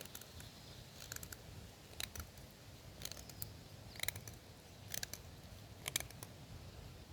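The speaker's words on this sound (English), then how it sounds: "we're gonna make a small feather stick out of this." An ESEE knife shaves thin curls along a stick to make a small feather stick, producing faint, close scraping strokes that come in short, evenly spaced bursts over a quiet background.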